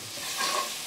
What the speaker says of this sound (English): we're gonna stir that around in the fat and it's gonna make kind of like a paste.